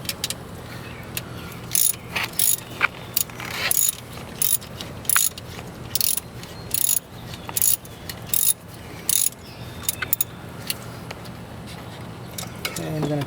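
A ratchet clicks in repeated short bursts while tightening the tension pulley bolt on a 2001 Mercedes-Benz W210 E320 wagon's serpentine belt drive; the sharp, close metallic ratcheting starts and stops over a low steady background.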